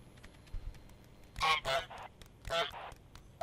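Honks of the goose in Untitled Goose Game, co-op play: two loud clustered bursts of nasal honking about a second apart, over quiet background with faint clicks.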